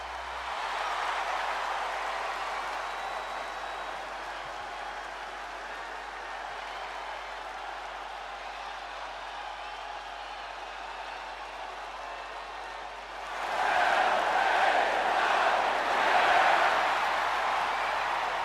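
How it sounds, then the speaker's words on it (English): An arena crowd at a WWE 2K25 wrestling show keeps up a steady distant murmur, then swells into a loud roar and cheering for the last few seconds. "the roar of the crowd tells you all you need to know"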